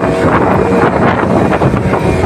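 Strong wind at Jolo port roars and buffets the microphone in a loud, continuous gusting rush, with no clear voices.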